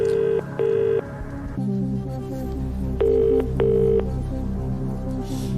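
A telephone ring tone sounds in two pairs of electronic trills, separated by a pause, over a sustained low background hum.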